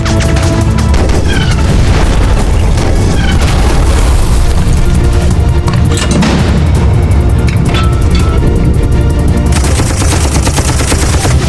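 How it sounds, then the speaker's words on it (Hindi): Loud, continuous battle sound from a historical war film, with tank cannon fire and explosions booming alongside dense gunfire, filling the whole stretch without pause. "दुश्मन का टैंक फायर"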